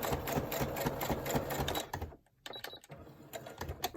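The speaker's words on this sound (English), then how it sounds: "machine might have a little harder time to sew through these 3 layers." A sewing machine stitches through three layers of paper for junk journal pockets, a close, steady mechanical chatter that stops briefly midway, then resumes.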